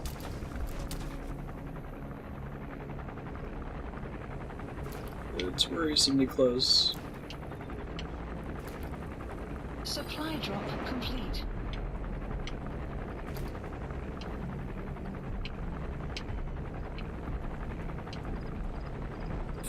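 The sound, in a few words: helicopter in video game Metal Gear Solid 5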